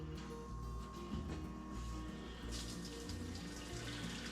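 Gasoline flowing through a blue fuel nozzle into a hydro-locked estate car, a steady rushing, gurgling pour heard close and continuous with no talking.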